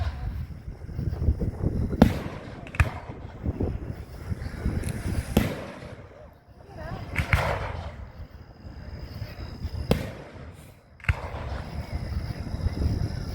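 Firework show with sharp exploding bursts every second or two, some near and loud, mixed with crackling, rumbling booms and outdoor wind noise; no one speaks.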